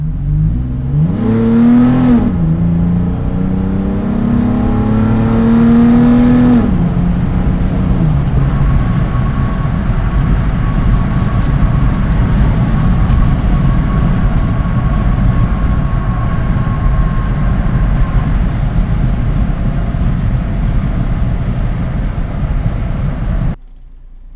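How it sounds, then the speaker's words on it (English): A Toyota 4Runner TRD fitted with a cold air intake accelerates at full throttle, its engine note climbing loudly through several gear pulls before settling into a steady drone of engine and road noise. "I want to floor it here and let you hear all that noise"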